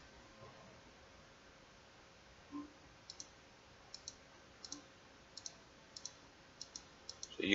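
Sharp mouse clicks on items during a video game, a series of evenly spaced single and double taps over a faint hiss, quiet and close, with no talking.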